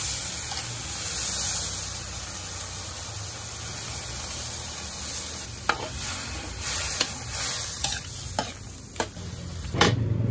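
Broth is poured into a pork blood stew in a pan and hisses steadily, with a few sharp clinks and stirring knocks toward the end, close and continuous.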